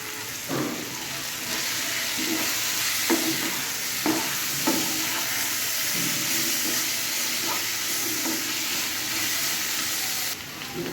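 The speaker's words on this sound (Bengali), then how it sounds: "ভাজা হয়ে এসে এবার দিয়ে দেবো আদা রসুন বাটাটা।" Ginger-garlic paste frying in a pan while being stirred, for a Bengali tangra fish curry: a steady sizzle and hiss with repeated scraping stir strokes, close and continuous, no talk.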